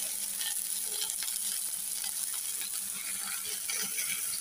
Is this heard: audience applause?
no